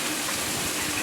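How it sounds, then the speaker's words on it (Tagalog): Strong water gushing from a pipe repaired by Maynilad, a dense continuous splashing rush, close and loud throughout the brief moment. "Lakas ng tubig, oh."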